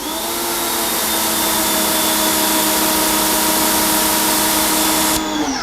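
A Chemical Guys Pro Flow PM2000 electric pressure washer sprays through its green 25-degree nozzle, a loud, steady motor drone with a hissing water jet that holds unbroken, then cuts off near the end.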